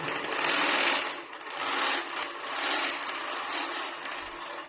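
A 15-inch Moxie longarm quilting machine stitches through quilt layers with a steady, dense mechanical whir that swells and eases in a few long passes, close and fairly loud, with no talking.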